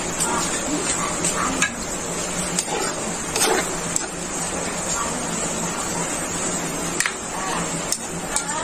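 Squid simmering uncovered in coconut milk, a steady close bubbling sizzle with scattered scrapes and clicks of stirring throughout, and a voice faintly present at times.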